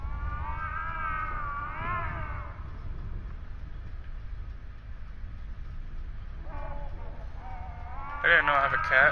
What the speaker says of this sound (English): I didn't know I have a cat.